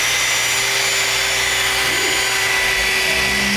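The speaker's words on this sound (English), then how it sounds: "You can start polishing here." A power polisher buffs the paint of a 2006 Ford Mustang, giving a steady, loud machine whir that holds evenly throughout, with a slight shift in pitch toward the end.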